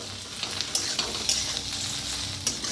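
Maggi masala okra frying in a pan with salt mixed in, giving a bright continuous sizzle with scattered spatula scrapes, close up and without any voices.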